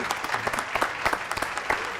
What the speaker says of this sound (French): Applaudissements pour Cyril Lafoucault.